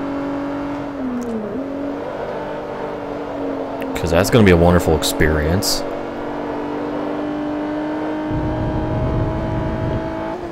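A Renault Sport Clio racing engine in Forza Motorsport 3 drones steadily throughout, with a burst of revving and shifting pitch in the middle before settling back, while someone talks over it.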